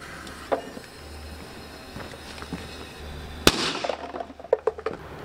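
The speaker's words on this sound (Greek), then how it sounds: "Αυτή ήταν η μικρή Μινέρβα." A small Minerva firecracker blows up inside a plastic bottle with one sharp, loud bang, followed by crackling and scattered pops fading over a few seconds, after a stretch of quieter background rustle.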